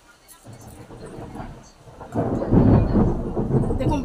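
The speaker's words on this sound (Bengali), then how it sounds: "দেখুন বাইরে কিভাবে মেঘ ডাকছে" Thunder rumbling outside, a low distant roll that swells and grows louder midway before easing slightly, with faint rain in the background and no talking.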